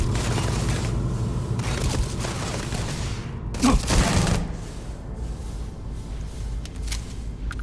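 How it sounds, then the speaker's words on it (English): Gunfire in the video game Starfield, a brief cluster of sharp shots rising out of a steady, dense wash of game noise and music. "They're shooting."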